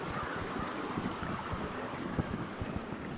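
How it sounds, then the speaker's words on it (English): Water flows and splashes beneath a bridge in a state park, a steady broadband rush with faint wind buffeting, continuous and fairly close, no voices. "Good sound of water too."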